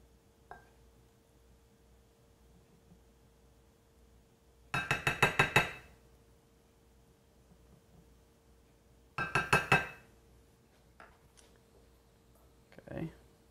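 Two short bursts of scraping and clinking as a spoon spreads cheeseburger pie filling in a dish, each lasting about a second, with a faint tap near the end, in a quiet kitchen.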